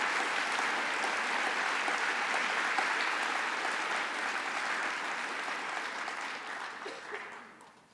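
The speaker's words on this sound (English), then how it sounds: "Could you all please give a round of applause to our donors?" Sustained applause from an audience at a Holocaust survivor keynote event honoring donors, a dense steady clapping that fills the room for several seconds before tapering off at the end, with no talking over it.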